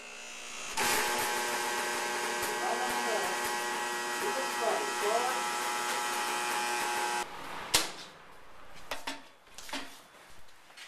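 A first arc weld from a beginner's welding lesson, a loud steady buzzing crackle for about six seconds that then cuts off, followed by brief clanks and a voice talking.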